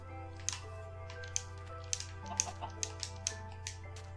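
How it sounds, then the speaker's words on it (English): A Minecraft chicken clucks in short, scattered bursts over a steady low electronic hum, several sharp peeps spread across the few seconds. "There's a clucking."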